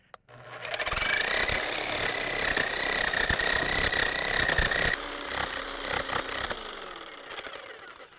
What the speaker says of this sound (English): And then we'll start driving this post.